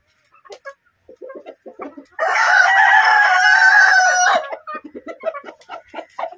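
Roosters at a chicken farm let out one loud, drawn-out crow lasting about two seconds, set among scattered clucks and softer fowl calls before and after.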